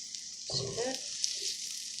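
Egg mixture with dried cilantro sizzling in a pan, a steady close frying hiss with a brief louder burst as it is turned over.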